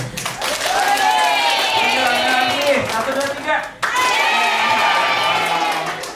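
Children at a drawing workshop clap together in a dense, lively burst while voices chant along, then pause briefly before a second round of clapping and chanting.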